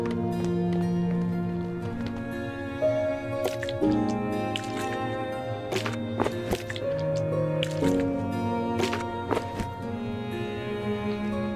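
In the video game Undying, water is collected, producing wet squishing and dripping liquid sounds with small splashes and gurgles, set against a steady musical background.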